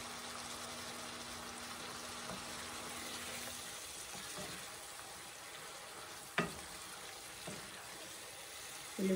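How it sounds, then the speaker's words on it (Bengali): Dried fish (shutki) frying with spices in a pan, a steady soft sizzle throughout with a few brief clinks of a utensil against the pan, close but quiet and without talking. "এখন আমার শুটকিটা কষে গেছে"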